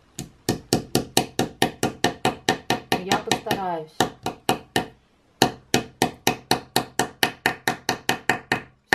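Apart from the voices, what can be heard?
small hammer driving picture hook into wood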